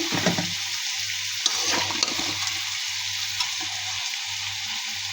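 Pre-fried shrimp go into a pan of radish chorchori, setting off a steady, close sizzle with bubbling and a faint low hum beneath.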